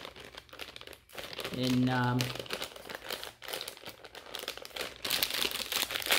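Mary Jane molasses and peanut butter candies having their wrappers opened: close, busy crinkling and crackling of the wrappers, swelling louder near the end, while a person talks over it.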